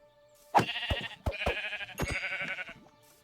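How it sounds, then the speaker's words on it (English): Sheep in the Minecraft video game give several close, nasal bleats in quick succession, each one short and wavering, with sharp clicks between them and no talking. "sorry to anyone who needed to tame these sheep"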